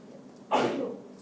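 A single short, sharp sneeze bursts out in a quiet classroom, close and moderately loud, over faint room noise.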